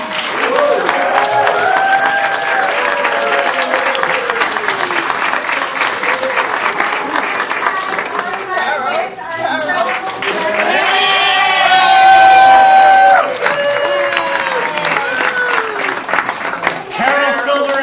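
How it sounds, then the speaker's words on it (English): A large audience applauds steadily after an amateur Guys and Dolls show at a Jewish care home, the clapping swelling with cheers and whoops, while a voice speaks over it through part of the stretch. "So I'd love to hear one more big round of applause for our amazing"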